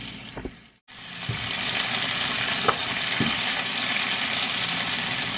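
Onions frying in a pan until translucent: after a brief stir and a short pause, a loud, steady broadband sizzle fills the rest, broken by a few faint clicks of the utensil.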